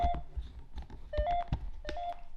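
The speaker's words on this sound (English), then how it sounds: "That beeping is the sensor in the phone." Several short electronic beeps with tonal bleeps from a phone's sensor during a paranormal investigation come in bursts at irregular intervals, fairly close and clear, with no talking.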